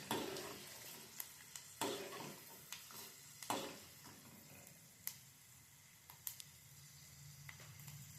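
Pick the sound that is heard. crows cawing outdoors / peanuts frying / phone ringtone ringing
peanuts frying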